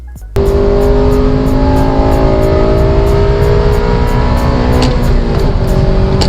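A 2008 Honda Civic Si engine pulls hard and loud, its pitch climbing steadily through the revs before easing near the end.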